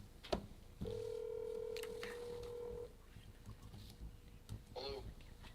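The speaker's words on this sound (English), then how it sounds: "I'm going to hang up and call you back because my phone is frozen." During a council meeting, a telephone call over a speakerphone produces a faint, steady electronic tone lasting about two seconds, followed later by a short warbling chirp over low room noise.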